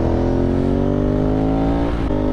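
A Ducati motorcycle pulls along a mountain road with a loud, sustained engine drone whose rich harmonic tone climbs slowly in pitch, heard close and alone.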